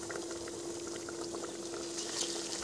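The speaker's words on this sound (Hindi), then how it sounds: "देखिए फ्रेंड, हमारे नगेट्स कितने अच्छी तरीके से फ्राई हो रहे हैं" Aloo paneer nuggets deep fry in hot oil, giving a continuous dense bubbling hiss that stays even and close throughout, with no voices.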